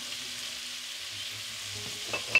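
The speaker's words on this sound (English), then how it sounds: "Once the onion have sweat a little bit, I'm going to add in carrot." Onions and carrots frying in a pot, a faint, steady sizzle with a few soft stirring scrapes near the end and no talking.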